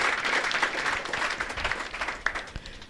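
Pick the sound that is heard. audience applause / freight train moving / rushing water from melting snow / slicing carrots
audience applause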